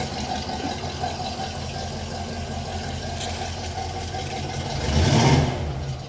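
A rugged K5 Blazer's engine idles nearby with a steady low rumble, briefly swelling louder near the end before settling.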